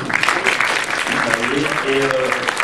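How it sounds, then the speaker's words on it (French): Cinema audience applauding guests at a film festival screening Q&A, a continuous dense wash of clapping with a voice talking over it. "Vous pouvez les applaudir encore une fois."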